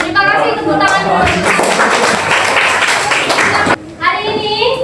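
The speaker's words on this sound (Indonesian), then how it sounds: "tepuk tangan dulu" A class of schoolchildren claps together in a dense burst lasting several seconds, loud and close, with children's voices chattering over it and a brief dip near the end before voices continue.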